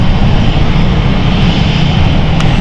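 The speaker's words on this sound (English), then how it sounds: "we have the Edinburgh flight heading out as well" An airliner departing London City Airport for Edinburgh, a loud, continuous roar of aircraft engines that holds steady and fills the whole stretch, with no talking.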